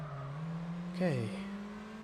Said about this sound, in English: that Yaris does sound angry